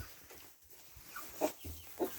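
A rooster and hen cluck faintly, a few short soft clucks near the end over low background noise.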